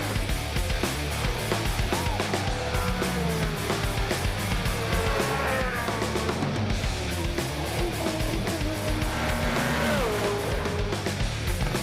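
A V8 Supercar raced hard by Craig Lowndes howls continuously through gear changes, engine pitch rising and falling, loud and dense with crowd and track noise and no clear talk.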